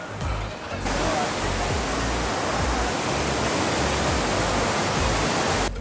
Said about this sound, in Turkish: Suyun sesinden kendi sesimizi duymuyoruz.